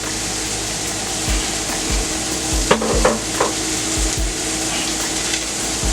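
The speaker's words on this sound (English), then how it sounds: "I'm going to go ahead and throw in my onions here" Onions tossed into a Power Pressure Cooker XL pan already frying pork steaks, a steady hiss with low thumps and a brief scrape of stirring midway, close and fairly loud, no talk.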